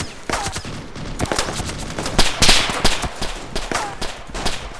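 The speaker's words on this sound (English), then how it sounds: "Oh! Gunshots." Rapid bursts of gunfire in the survival video game DayZ crack out in quick succession, a loud, dense fusillade of overlapping shots with brief pauses throughout.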